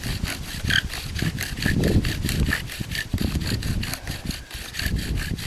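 A bow drill spindle spins fast against a wooden board, giving a steady, close rasping rub that pulses back and forth with each bow stroke throughout.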